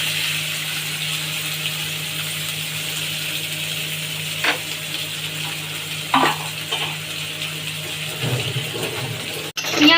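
Chopped garlic and onion frying in oil, with a steady soft sizzle and occasional stirring knocks and clatters, close and moderately loud throughout.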